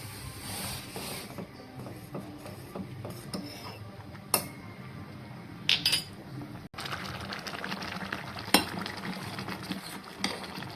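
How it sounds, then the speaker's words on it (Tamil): A spoon stirs vermicelli (semiya) cooking in a pot, with repeated close scraping and clinking against the metal over a low simmering background. "சேமியாவை அடிக்கடி இப்படி கிண்டி விட்டுருங்க"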